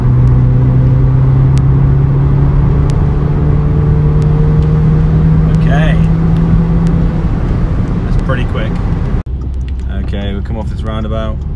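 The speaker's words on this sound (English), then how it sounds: "So I'm just going to hit the throttle and see what it does." A facelifted Audi S3 accelerates hard at full throttle in a low gear, its engine droning loud and close and rising in pitch, with a gear change near the end and voices talking over it.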